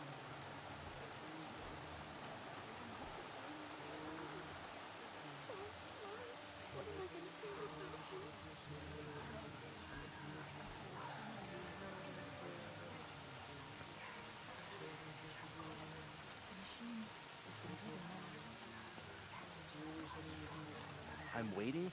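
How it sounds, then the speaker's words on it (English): Steady rain from Horizon Zero Dawn falls as a continuous soft hiss of drops across the whole stretch, fairly quiet and even, with distant low ambience beneath. "Everything's sharp and looming in the rain."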